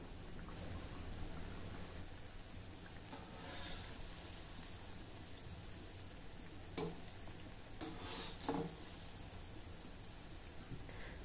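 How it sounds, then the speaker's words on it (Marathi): Gulgule fritters frying in hot oil over a medium-low gas flame, a steady soft sizzle that bubbles throughout, with a few brief louder crackles toward the end and no talking. "आता मध्यम ते मंद गॅसवर आपण हे गुलगुले छान अगदी तांबूस रंगाचे होईपर्यंत तळून घेऊ।"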